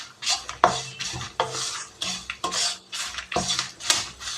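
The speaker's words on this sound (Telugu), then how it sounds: "ఇవన్నీ కూడా చక్కగా మసాలా అంతా కూడా కొంచెం ఫ్రై అయ్యేలాగా కలుపుకోండి" Masala for namkeen murmura chivda stirred and fried in a pan, with a spoon scraping and clinking against the metal in repeated strokes, loud and close, with no talking.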